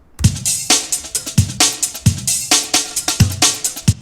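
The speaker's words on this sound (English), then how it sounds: "the original break sounds like this" An original, unchopped UK garage drum break loops, with deep kicks, snappy snares and busy shuffling hi-hats running in a swung groove that is loud, dry and continuous.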